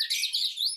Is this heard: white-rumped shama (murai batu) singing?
yes